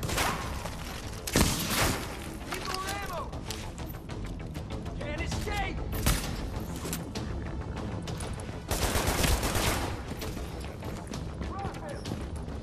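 Automated turrets in The Division fire rapid bursts of gunfire during a fight, the shots mixed with other loud combat noise and voices talking throughout.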